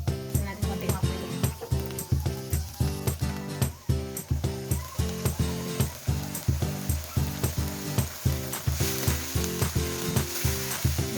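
Soy sauce sizzling and bubbling in a pan of chicken adobo, a steady frying hiss under rhythmic stirring and clinking, with people talking throughout.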